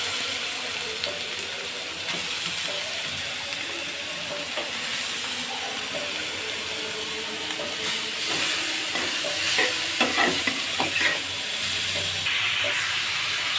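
Carrots fry in ghee in a pan with a little sugar, producing a steady hissing sizzle with scattered crackles and small pops, close and continuous.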